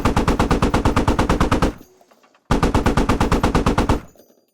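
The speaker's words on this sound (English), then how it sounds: "let's climb in, go to the gunner sheet, and then let's shoot the MI8 a little bit" Machine gun fired from a helicopter gunner seat at an Mi-8 in the Squad video game: two long, rapid, loud bursts of rhythmic gunfire, each cutting off abruptly, separated by a brief quiet gap.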